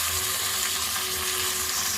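Chopped ivy gourd and potatoes fry in a pan on the stove, giving a steady, loud, close sizzle that holds evenly throughout.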